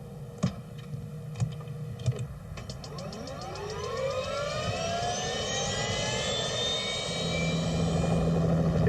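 Bell Jet Ranger 3 helicopter with its turbine whine rising steadily in pitch after a few sharp knocks, building into a loud, close, sustained engine roar.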